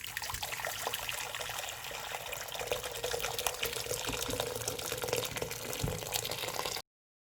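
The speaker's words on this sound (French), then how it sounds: "je vais verser mon eau chaude" Hot water pours steadily into a large stockpot, a loud close rushing splash that holds for nearly seven seconds before stopping abruptly.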